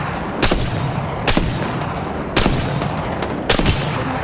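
Gunfire in Apex Legends: four loud, sharp shots or short bursts about a second apart, each cutting through a constant rumbling battle background.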